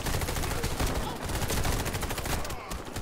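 Rapid automatic gunfire in the shooter game Warface, a loud, dense stream of overlapping shots and bursts filling the whole stretch without pause.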